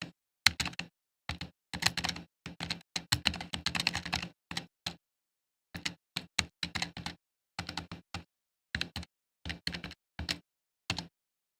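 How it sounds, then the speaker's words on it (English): Bursts of rapid key clacks from a new low-profile computer keyboard, typed in quick runs separated by short pauses, close and crisp with no voices. "That is the new keyboard, and it types like a dream."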